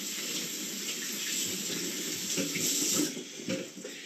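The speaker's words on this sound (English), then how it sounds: "the first thing anybody should do when they're cooking is wash their hands" Running tap water splashes steadily into a kitchen sink while hands are washed before cooking, a close, continuous hiss and spatter whose sound shifts slightly near the end.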